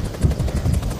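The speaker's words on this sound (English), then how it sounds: "as they bring this helicopter in" A firefighting helicopter comes in to land, its rotor thumping in a fast, loud, regular beat with heavy low-end wash through the whole moment.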